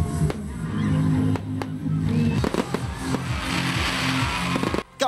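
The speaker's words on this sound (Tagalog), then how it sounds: "Gitapos ang programa sa usa ka magkarbong fireworks display." Fireworks burst at a holiday tree lighting in Tagum City, a dense barrage of crackling firecrackers and sharp booms, loud and continuous with bright sizzling crackle building toward the end.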